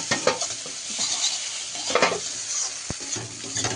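Egg curry masala with fried potatoes sizzling as it is stirred in a pan, steady frying hiss broken by repeated close spatula scrapes and a metallic knock, no voices.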